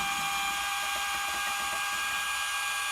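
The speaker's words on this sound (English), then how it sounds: "I have the degasser attached to my drill." An electric drill spinning a wine degasser in mead whirs steadily at high speed, a continuous loud buzzing whine with faint rattling underneath.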